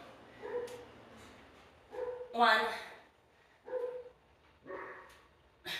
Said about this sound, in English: Don't mind my dog.